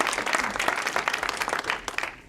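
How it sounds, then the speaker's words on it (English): A live audience claps for a guest speaker at a big data analytics talk, a dense, steady burst of applause filling the room for a couple of seconds before tapering slightly. "let's give him a big round of applause"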